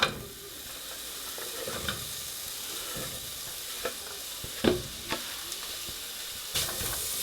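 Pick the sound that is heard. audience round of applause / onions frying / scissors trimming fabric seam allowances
onions frying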